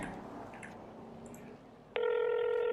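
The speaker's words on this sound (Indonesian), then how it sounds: "Coba aku telepon salah satu pengacaranya." A phone call to a lawyer begins with quiet background shuffling, then a steady electronic ringing tone cuts in partway through and holds loud and even until the end, with no talking.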